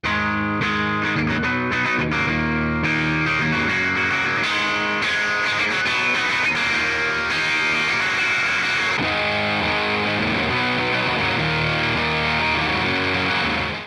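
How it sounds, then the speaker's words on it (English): A distorted electric guitar played through a SansAmp pedal rings out chords and riffs, loud and saturated and continuous for the whole span with no talking. "Everywhere from warm cleans to super bitey crunch and screaming distortion."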